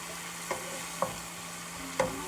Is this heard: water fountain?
no